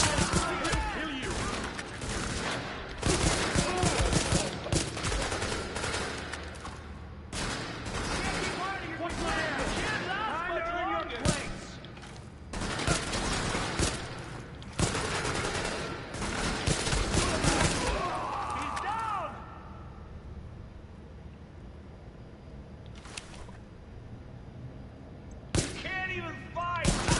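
Pistol gunfire in Tom Clancy's The Division, a series of sharp loud shots clustered in rapid volleys over the first two-thirds, then quieter with a few isolated cracks near the end, voices talking between.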